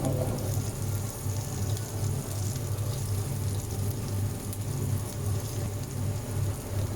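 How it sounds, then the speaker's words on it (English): Potatoes frying in a pan for devilled potatoes give a steady, even sizzle that carries on unbroken at moderate, close level with no voices. "So far I fried them for about approximately 2 minutes."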